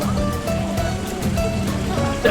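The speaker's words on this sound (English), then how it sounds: "relaxing by this cute water fountain they have in the middle of the restaurant" A water fountain in the middle of a restaurant in Tangier, Morocco, splashes steadily and fairly loudly as a continuous wash, with faint tonal background sounds and no clear talk.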